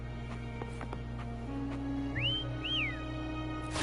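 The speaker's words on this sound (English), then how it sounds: "Try whistling." Two rising-and-falling whistle calls sound in Wuthering Waves, fairly clear over a steady game ambience with a low hum.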